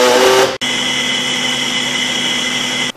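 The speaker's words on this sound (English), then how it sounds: "We're going to put it in our blender, and we want to blend it for about 3 minutes." A kitchen blender whirs steadily after a brief cutoff, a loud continuous motor drone with a high whine, running alone while blending a homemade natural bug repellent mixture.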